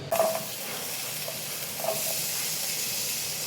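Shallots drop into hot masala in a pan and are stirred, giving a steady, close hissing sizzle with a louder burst as they go in and a scrape of stirring partway through.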